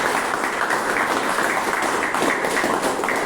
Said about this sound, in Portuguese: Podemos dar uma salva de palmas para Deus?